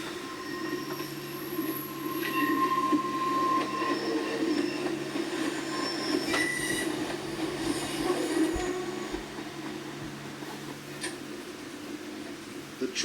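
A train runs along a Welsh railway line through the back streets of a town, its steady rolling rumble carrying on throughout with wheel squeal and clatter, heard from on board at moderate level with no talk.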